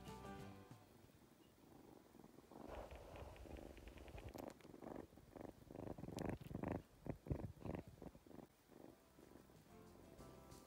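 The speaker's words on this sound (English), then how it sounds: "It's purring." A new kitten purring while lying against a person's chest, a soft low rumbling purr with rhythmic pulses, faint and close, with some rustling and no talking.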